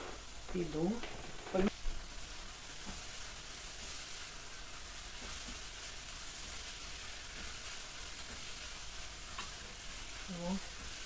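Onion fries in a pan with a soft, steady sizzle throughout, while a voice is heard briefly near the start and again at the end.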